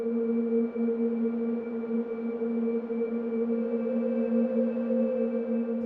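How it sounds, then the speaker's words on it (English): A calming ocean-wave layer from a Logic Pro mix, heard as a steady, soft, sustained wash with a faint tonal hum running through it, even and unbroken throughout, with no talking. "Under all of that, we have the calming waves."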